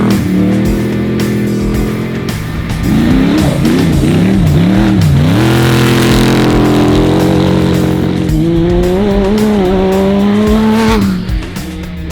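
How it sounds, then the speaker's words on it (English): Side-by-side off-road vehicles race past at the Gas Dash event with loud, close engine roar, revving that rises and falls through gear changes, and tire squeal as they accelerate along the course. "Another side by side."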